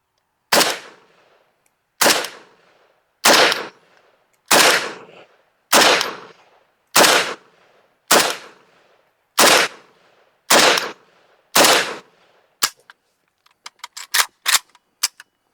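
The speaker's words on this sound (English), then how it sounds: "I want to shoot some groups here with it" A gun fitted with a prism optic fires a string of about ten loud, sharp shots at an even pace, each ringing out briefly before the next, then a quicker burst of lighter cracks at the end; no speech.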